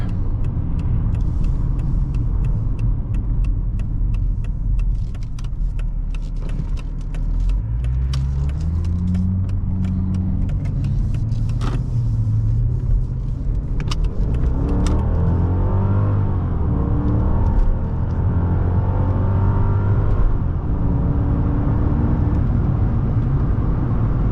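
A 2001 Mercedes-Benz S55 AMG driving through a U-turn, its engine rumbling steadily from inside the cabin with rising and falling revs as it slows, turns and pulls away again.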